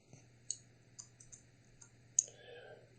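Sparse, quiet clicks of keys on a computer keyboard, a handful of separate taps spaced irregularly over a low steady hum, while numbers are entered for game character attributes.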